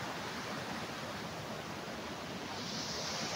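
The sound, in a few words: small waterfall on a river farm lot in Liliw, Laguna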